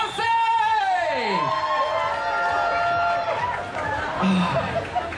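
Bristol Pride crowd whooping and cheering at an outdoor stage, loud, with rising and falling shouts and a swell of chatter, people talking and calling out throughout.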